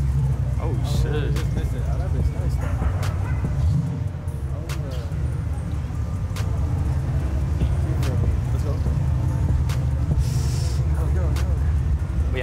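Car driving past on a busy city street, with steady traffic rumble and engine noise throughout and people talking over it.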